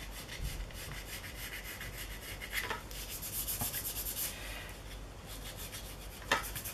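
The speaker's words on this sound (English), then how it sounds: "I'm just on the surface and I'm going to rub and smudge" Charcoal rubbed and smudged across a paper surface, a soft, continuous scratchy rubbing with uneven strokes, close and fairly quiet, no talking.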